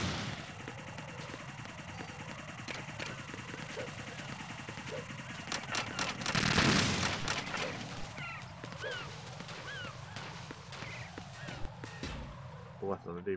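Gunfire from Metal Gear Solid 2: Substance on PC, rapid clustered shots peaking in a dense burst midway, layered over continuous game ambience while players talk throughout.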